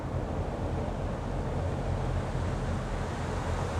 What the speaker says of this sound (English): Look at that river.